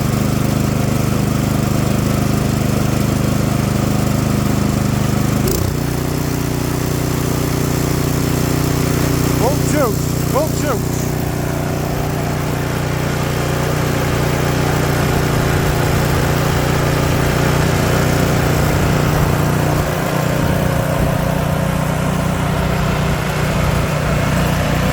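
A Craftsman snowblower engine runs steadily in sub-zero cold, a continuous mid-pitched drone with a brief clank early on and faint rattles partway through, staying loud and constant throughout.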